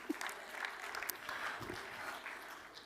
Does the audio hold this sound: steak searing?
no